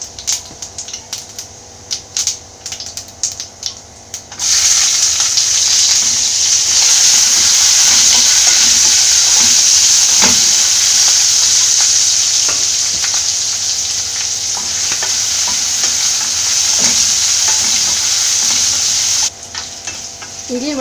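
Urad dal hits hot oil in a pan while making Kerala-style potato masala for dosa, setting off a loud, steady, close sizzle that holds for about fifteen seconds and then cuts off, with a few stirring clicks before and after.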